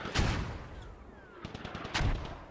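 Mortar rounds landing in the military shooter game Squad, two heavy booming impacts about two seconds apart, sharp and fairly close, with rumbling debris and fainter distant blasts between them and no talk.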